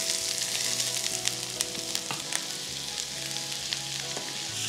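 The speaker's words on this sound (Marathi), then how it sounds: "आता यामध्ये हा उभा चिरलेला कांदा घालूयात सगळं." Lengthwise-sliced onion fries in a small ladleful of oil in a pan for chicken curry, producing a continuous close sizzle with light stirring clicks and a low steady hum beneath, no voices.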